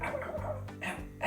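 A dog gives a few short, close yips and whimpering barks in quick succession, fairly quiet, with no talking.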